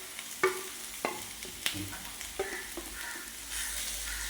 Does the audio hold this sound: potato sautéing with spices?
yes